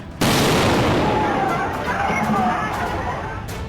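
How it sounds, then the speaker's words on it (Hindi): A powerful explosion at Nowgam police station in Srinagar at night, a sudden loud blast followed by a long rumbling roar and echo, with crowd babble faintly audible. "धमाका इतना जोरदार था कि रात के सन्नाटे में विस्फोट की गूंज कई किलोमीटर दूर तक सुनाई दी"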